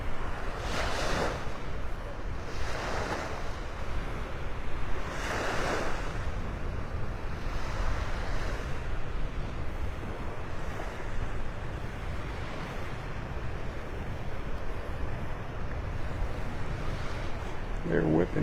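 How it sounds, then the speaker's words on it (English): Strong onshore wind blows in off the Gulf of Mexico at Delnor-Wiggins beach in North Naples, Florida, under red-flag conditions, with wind buffeting the microphone over a constant wash of surf and several louder breaking waves. "Wind's coming almost straight in from the Gulf there."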